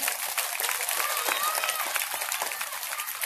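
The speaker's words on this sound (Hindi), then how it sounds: "उनके लिए जोरदार ताली बजाइए आप लोग।" An audience at a religious discourse event in Noida claps vigorously, a dense, continuous, fairly loud patter of many hands with crowd murmur mixed in.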